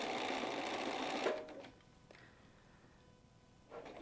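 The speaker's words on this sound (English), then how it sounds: "continue stitching down, pulling the pins as you go" A sewing machine stitches down the seam of a cuddle pillow, a fast steady whirring run that stops abruptly, followed by quiet handling before the motor starts again near the end.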